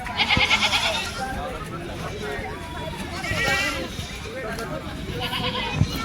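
Goats bleat repeatedly amid the noisy crowd of a Sunday goat and sheep market at Chilpur Gutta, with people talking and bargaining throughout.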